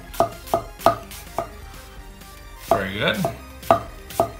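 A knife slicing food on a cutting board gives several sharp, evenly spaced cuts up close, with a brief pause in the rhythm and a short spoken remark in between.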